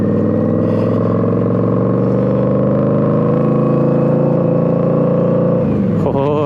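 An Indian Scout Bobber motorcycle fitted with short York Industry exhausts revs hard and holds a loud, raspy, sustained note close by, then drops off sharply near the end.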